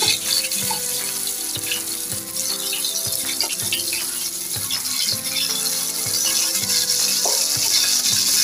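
Bangda mackerel fish frying hard over high heat in a pan, a steady loud sizzle with scraping and clatter as the pieces are flipped, no talking.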